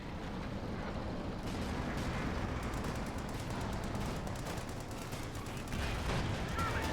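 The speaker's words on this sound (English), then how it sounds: "Panther engaging the Sherman." A continuous wash of distant battlefield noise from Company of Heroes 2, a Panther tank firing on a Sherman amid scattered sharp cracks and rumbling gunfire, with no voices.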